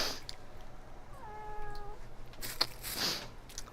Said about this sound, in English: This lovely kitty boo.